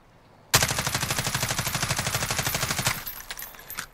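HK G36C rifle firing a long full-auto burst in Call of Duty Modern Warfare, with a fitted reflex sight: rapid, even rhythmic shots, loud and close, lasting about two and a half seconds before a brief ringing tail.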